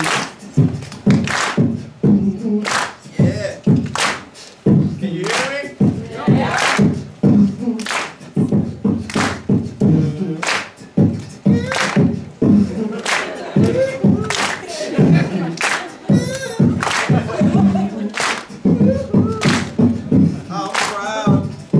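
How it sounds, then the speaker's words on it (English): An audience claps in unison to a slow set tempo at a diversity monologues event, loud sharp hand claps evenly spaced, with a voice speaking between some of the beats. "Alright, give me tempo. Clap your hand."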